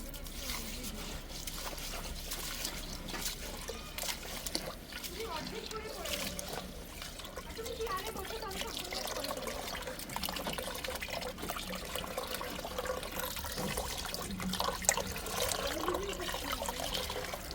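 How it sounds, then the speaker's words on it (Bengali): Water swishes and trickles as rice and lentils are rinsed together by hand, with people talking over the steady sloshing. "এই যে খিচুড়ি চাল ডাল মিলে এখানে ধোয়া হচ্ছে।"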